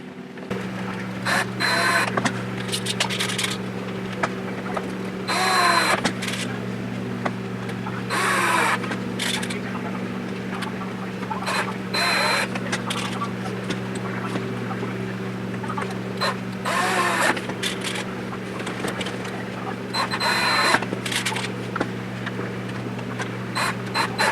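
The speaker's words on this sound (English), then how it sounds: "you just saw me screw in the screws in the pick guard here" Pickguard screws are driven into a Stratocaster electric guitar with a power screwdriver, heard as repeated short whirring bursts over a steady low hum, with pauses between screws.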